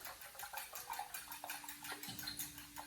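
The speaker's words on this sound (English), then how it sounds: "I don't have a whisk, use a mini fork." A mini fork whisks eggs in a bowl, giving quick rhythmic clinks and sloshing taps for a few seconds, close and fairly soft.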